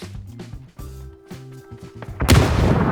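PUBG game sounds with tonal music-like beeps and thuds, then a loud grenade blast erupts near the end and rumbles on.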